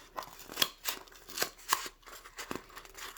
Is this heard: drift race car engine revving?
no